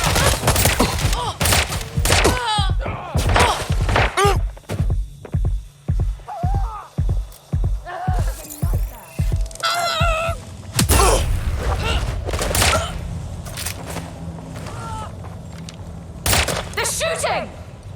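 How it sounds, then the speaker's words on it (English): Rapid gunfire in a Watch Dogs Legion firefight: a fast, rhythmic train of heavy thumping shots repeated in bursts under a droning hum, with voices shouting over parts of it. "That's a lot of firepower!"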